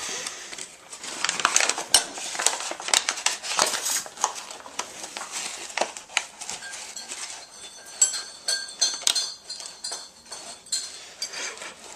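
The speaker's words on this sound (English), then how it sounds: "Now we are going to keep stirring this all the flour into the dough" Bread flour being stirred into dough in a bowl, irregular clinking and scraping of a spoon against the bowl with soft thick mixing sounds, close and busy, no voices.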